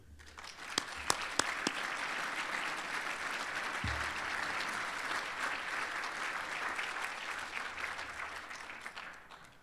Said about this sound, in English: Please join me in a round of applause for our chairman, Mr. Ron Lawrence.